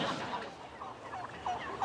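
Turkeys gobble in a short burst of overlapping warbling calls, fairly close and fairly loud, against a busy outdoor farmyard background with no talk.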